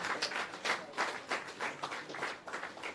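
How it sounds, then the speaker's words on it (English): An audience at an outdoor launch ceremony for a restored scenic avenue claps for a commander, a thin, fairly distant patter of applause that swells and dips for a few seconds. "please give the commander another round of applause"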